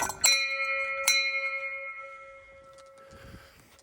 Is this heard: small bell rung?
yes